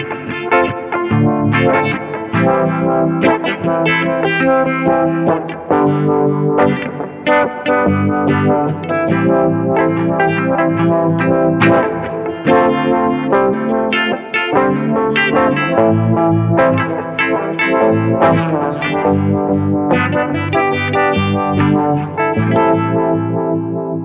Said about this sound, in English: wah-wah down or up with a filter, so it becomes an auto wah